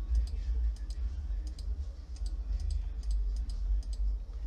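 Quick mouse clicks tick in a steady series while navigating a game menu in the PC game MapleStory, faint and crisp above a constant low rumbling hum.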